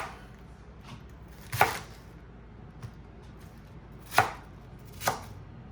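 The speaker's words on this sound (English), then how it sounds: "I'm going to cut this chunk into pieces" A knife cutting a chunk of green cabbage into pieces on a board, three sharp crunching chops spaced apart with a couple of lighter taps between, close and otherwise quiet.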